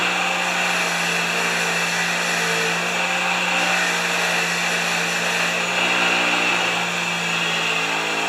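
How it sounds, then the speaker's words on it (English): A grinder cleans oil and grime off a Murray Briggs & Stratton engine, giving a loud, continuous whirring drone that holds steady throughout with no talk. "I'm going to go to the grinder."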